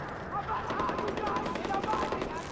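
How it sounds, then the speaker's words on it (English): Rapid bursts of gunfire in Far Cry 4 crackle steadily throughout, dense and continuous, with a voice murmuring faintly underneath. "I hear gunshots."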